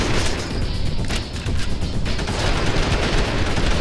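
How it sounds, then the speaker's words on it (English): Sustained machine gun fire in the action game Hunter: The Reckoning, a loud continuous rattle of rapid shots with a brief dip in the middle, played alone without talk. "As you can see, the machine gun doesn't do that much damage to him."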